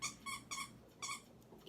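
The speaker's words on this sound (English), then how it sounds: "he got a 6 squeaker squeaky toy in his pup box, and it's driving me insane" A dog chews a six-squeaker plush toy, producing four short, high, nasal squeaks in an uneven rhythm over under two seconds, faint and in the background.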